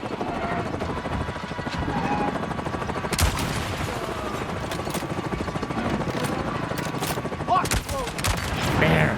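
Sustained automatic gunfire rattles against the steady drone of a hovering helicopter in Avatar: Frontiers of Pandora, with bursts continuing over the whole stretch and a louder shot near the middle.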